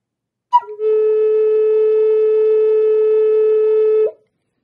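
One breathy Native American flute tone, fingers off the holes, begins with a short wavering attack, settles into a clear steady pitch, and stops after roughly three seconds.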